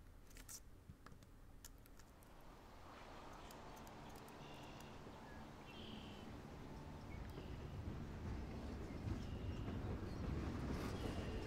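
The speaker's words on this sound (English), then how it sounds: "Oh, is this the train that we saw in the preview?" A train in the video game Life is Strange rumbles past, a low, steady roar that slowly swells louder over about eleven seconds with no voices over it.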